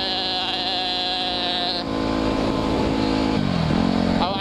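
Enduro motorcycle on a dirt road in the woods, its engine droning steadily with harmonic whine, then dipping and rising again as the rider shifts and accelerates; close and continuous throughout.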